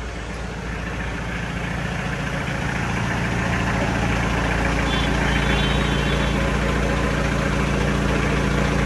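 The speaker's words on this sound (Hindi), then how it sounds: "इंजन का स्विफ्ट वाला है ये कड़ा बड़ा इंजन" A modified Jonga jeep fitted with a Maruti Swift engine idles with a steady, continuous mid-low hum, close and even throughout with no talking.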